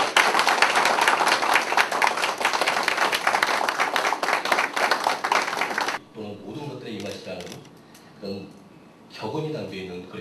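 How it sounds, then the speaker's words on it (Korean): At a Korean invited lecture during a plaque presentation, the audience gives a loud, dense round of clapping for about six seconds, which stops abruptly before someone speaks into a microphone. "여러분 큰 박수 부탁드리겠습니다"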